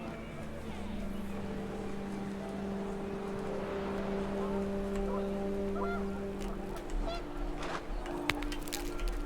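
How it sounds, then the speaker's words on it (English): Panicked geese honk in the game What Remains of Edith Finch, their calls blending into a steady, windy outdoor wash with a low sustained drone beneath. "The wind picked up and panicked geese appeared and quickly went."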